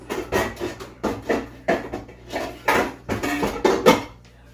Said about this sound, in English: I will put that lid on